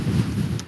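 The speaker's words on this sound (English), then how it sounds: "Oh my God, it's so windy." Heavy low rumbling buffets of wind battering a microphone, steady and loud throughout the short burst.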